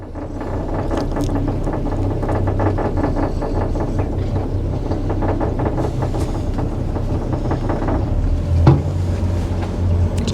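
A Yellowfin 7600 Southerner boat with a Yamaha outboard idles on the water, giving a steady, smooth low engine drone that holds at an even level throughout with no talk.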